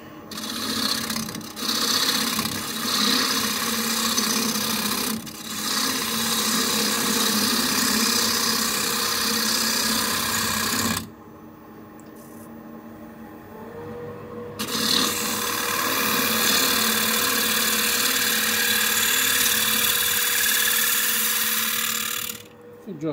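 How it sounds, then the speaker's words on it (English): A ball gouge cuts into a spinning wood blank on a lathe to true it up, giving a loud, continuous rough scraping and rasping that stops briefly midway and then resumes. "I'm using a ball gouge."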